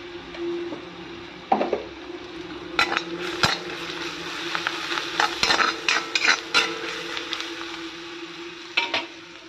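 Jackfruit curry ingredients frying in a pan with a soft sizzle underneath, broken by scraping stirs and clinks of a utensil against the pan.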